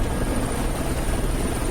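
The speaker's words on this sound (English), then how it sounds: "so you can hear from the outside that it really was a helicopter" A helicopter heard from outside right after landing on its skids, its rotor and engine making a loud, steady, dense roar with a high whine running continuously through the whole stretch.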